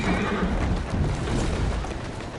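Horse in Assassin's Creed Syndicate giving a whinny with hoof clatter, pulling a carriage through the streets, fairly loud and steady throughout with no talk.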